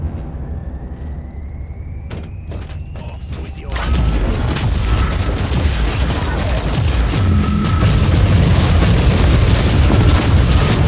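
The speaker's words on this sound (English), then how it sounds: "That grenade could be useful now." Grenade blasts and battle noise from the game Warhammer 40K: Inquisitor - Martyr: a few sharp bangs, then a loud, dense wall of rumbling explosions and gunfire that continues to the end.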